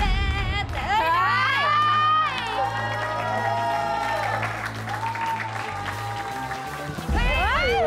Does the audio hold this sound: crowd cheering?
yes